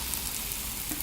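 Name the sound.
clay mask mixture sizzling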